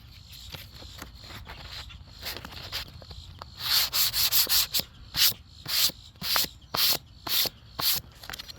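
A painted Estes Hi-Flier XL model rocket is sanded by hand, starting with light scratchy strokes and building to brisk, evenly spaced rasping passes, close and fairly loud.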